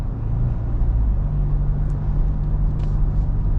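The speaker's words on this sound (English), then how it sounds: "That exhaust sounds awesome. You can hear a little bit of that turbo spooling up also as you get on it." Roush-tuned 2021 Ford Ranger pickup driving under acceleration, a steady loud low exhaust rumble with engine drone throughout, a faint higher whine on top hinting at turbo spool.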